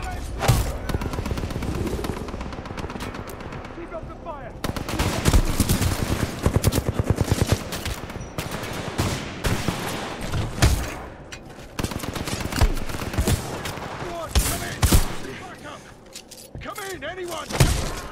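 Gunfire in Titanfall 2 combat pops in repeated bursts and single shots throughout, with occasional heavier booms, while people talk over the shooting.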